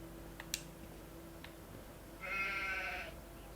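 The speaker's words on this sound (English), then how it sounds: "I just want to look at the sheep again." A single drawn-out sheep bleat from the video game Farming Simulator 25, clear and moderately loud, over a low steady background hum with a few faint clicks before it.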